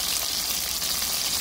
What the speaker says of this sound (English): fish frying.